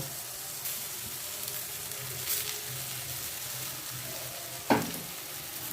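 Grated shola kochu (taro) fries with spices in a pan, giving a steady soft sizzle with one sharp clink of a utensil near the end. No one speaks.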